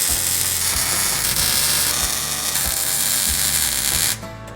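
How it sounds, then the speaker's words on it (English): Welding a car's dual exhaust pipes, a steady bright crackling hiss with faint periodic pulses that runs continuously at close range, then cuts off abruptly just before the end. "Time to weld her up."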